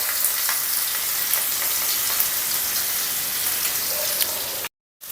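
Garlic and ginger frying in hot oil give a loud, steady, close sizzle with fine crackles throughout, broken by a brief silent gap near the end.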